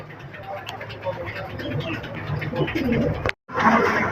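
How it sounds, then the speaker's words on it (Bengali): German Beauty Homer pigeons, a male and a female, coo back and forth in a loft, soft rolling calls heard under someone talking close by, with faint traffic in the background. "জার্মান বিউটি হোমার এই যে ন ডাকাডাকি করতেছে আর মাদি সারা দিচ্ছে"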